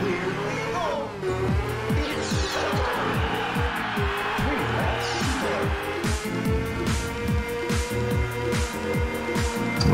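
Racing cars in a night race of Ridge Racer Type 4 on PS1, engines revving and shifting through repeated rising gear sweeps, with tire squeals, loud and continuous.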